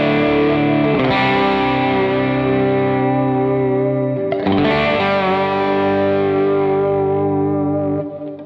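Overdriven Gretsch electric guitar, pushing the amp a little, strums two big chords, each left to ring with a gritty, sustained tone that slowly decays.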